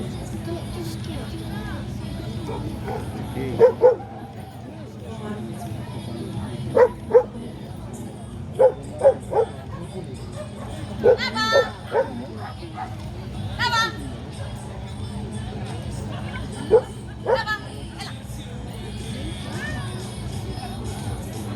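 Dogs bark in short sharp bursts scattered through the clip, some yips among them, with voices and crowd murmur underneath, during a dog training demonstration as dogs are called to their handlers.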